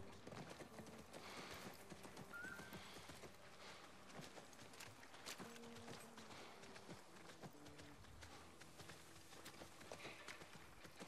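Horse hooves clip-clopping at a steady riding pace in The Last of Us Part I, a continuous rhythmic patter set among game music and ambient sound.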